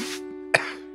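A single short, sharp cough bursts out against a steady background hum, with a brief breathy sound just before it.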